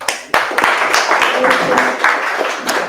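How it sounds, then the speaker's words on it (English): An audience at a real estate marketing talk claps together, a dense burst of hand claps that starts sharply after a brief pause and holds steady at close, loud level. "You can clap that shit up"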